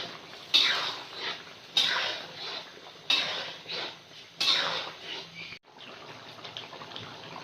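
Chicken karahi is being mixed in a pan, with rhythmic scraping and clanking of a utensil against metal repeating roughly every second, close and fairly loud, ending in a brief pause and softer stirring.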